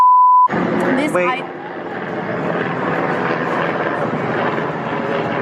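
After a short beep, a helicopter drones loudly and steadily overhead at Disneyland Resort, its engine and rotor filling the background.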